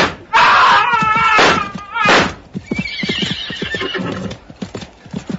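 Horses whinny loudly several times, then hooves clatter in a quick galloping clip-clop amid a dramatic sword-and-pistol fight scene in an audiobook production of The Prisoner of Zenda.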